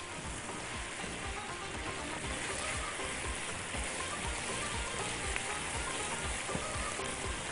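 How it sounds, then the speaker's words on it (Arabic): Onions, tomatoes and peppers sautéing in a pan, with a dense, continuous sizzle and crackle holding steady throughout, close and without talk. "البصل بس هو اللي هديله تشويحة بسيطة"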